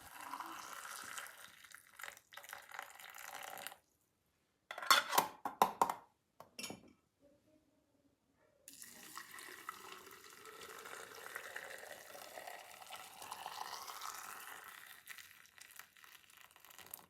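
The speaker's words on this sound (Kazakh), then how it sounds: "Қиярлардың үстіне тағы да қайнаған су құйып, банканы жабуға кірісеміз." Boiling water is poured over cucumbers packed in a jar, a faint splashing, gurgling pour in uneven stretches broken by silent gaps and a few short clattering knocks.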